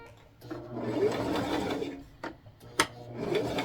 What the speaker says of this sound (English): start sewing this ruffle and this and the cape together